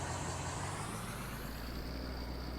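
A steady low truck engine rumble in Farming Simulator's Lakeland Vale map, with a faint air-brake hiss rising and fading, continuous and fairly quiet with no talking.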